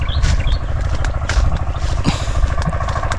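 A small farm engine runs steadily for field irrigation, a loud, close, continuous chugging rumble with rattling clatter throughout.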